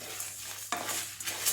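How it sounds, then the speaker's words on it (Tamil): Chettinad masala spices and curry leaves dry-roast in a pan without oil over a medium flame, with a spoon stirring and scraping through them, one sharp scrape standing out amid a soft continuous rustle, close and fairly quiet. "நல்லா வாசனை வர வரைய வறுத்துக்கோங்க."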